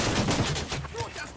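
Rapid automatic gunfire in the tactical shooter Ghost Recon Wildlands, a dense burst of loud close shots with a voice briefly heard underneath.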